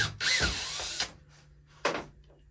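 A power drill whirs for about a second while backing a long screw out of a top bunk panel inside a Forest River Salem FSX178 travel trailer, followed by a shorter second burst, loud and close.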